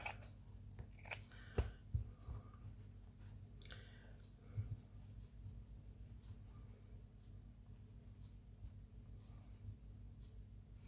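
Scissors snip through paper while a rabbit shape is cut out for a hare craft piece, giving a few faint, short cuts early on over a steady low background hum, with no talking.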